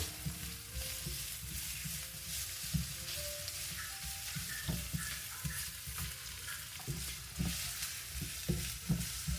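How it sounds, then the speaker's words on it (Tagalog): Native chicken pieces with garlic sizzle quietly in a pan while being stirred, producing a faint, continuous frying hiss with scattered soft scrapes and taps throughout. "Halo-haloin lang mga idol."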